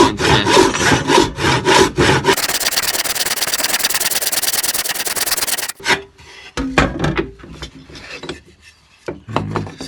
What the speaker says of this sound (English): Utilising your tenon saw again, you're going to start cutting